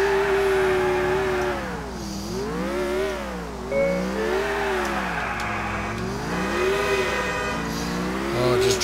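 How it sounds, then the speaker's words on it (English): A car in Grand Theft Auto IV drives and revs hard, its engine note rising and falling in repeated swells, with steady loud motor drone and occasional tire noise, continuous and close throughout. "If only I can keep the car straight."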